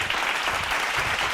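Applause from a church Bible study audience, a dense, steady wash of hand claps that holds at an even level throughout the brief moment, with no one talking over it.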